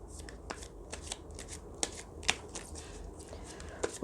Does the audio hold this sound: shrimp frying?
no